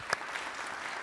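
Audience applause at a lecture hall event, a brief burst of clapping from a modest crowd, moderately distant and thinning out quickly.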